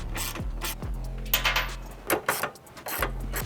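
A 13 mm ratchet loosens exhaust hanger bolts under a BMW G20 330i or G22 430i, giving several close bursts of rapid metallic clicking with short gaps and clanks between them.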